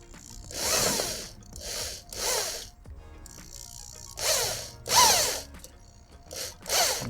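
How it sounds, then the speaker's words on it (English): A power drill whirs in repeated short bursts while making homemade tomato sauce, spinning up and winding down several times with brief gaps of quiet between. "And I'm just gonna slowly turn that drill on."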